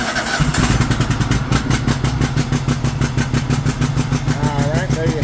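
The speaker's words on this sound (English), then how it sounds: "So I just pull the choke and turn the mower to start." A Cub Cadet 1500 series lawn mower engine being started on choke, cranking then catching into a loud, steady rapid chugging idle close by, with a voice talking over it.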